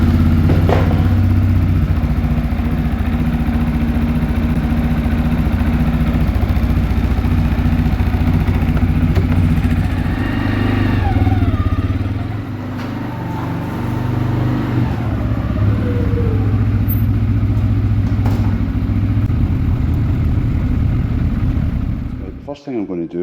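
A CFMOTO C Force 400/500 ATV engine starts and settles into a steady, close idle with a low rumble and light clatter, while someone talks over it for much of the time before the engine cuts off at the end.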